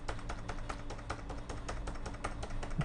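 Soft computer keyboard keystrokes, a run of quick regular taps on the Shift and arrow keys, faint and close against low background hum, with no talk.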